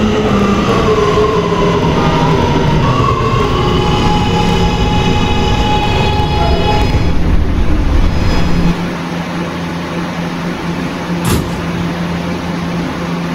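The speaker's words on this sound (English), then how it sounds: "This is a Westwatop bound E train." Inside an R211A subway car on the E line in New York, a steady loud rumble of wheels and motors fills the ride with a whining tone. It drops to a quieter roll near the end, marked by one brief sharp click.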